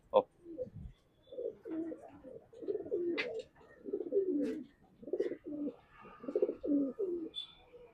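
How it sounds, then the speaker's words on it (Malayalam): Pigeons in a loft coo in a steady series of low, throaty calls, fairly close, with a few faint chirps and small noises between them. "ഇതാണ്ടോ പ്രാവ് വരുന്നേ"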